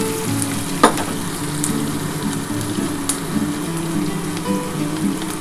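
A large onion fries steadily in a pan for a bata fish curry, giving an even, close hiss with occasional pops and one brief louder clatter early on.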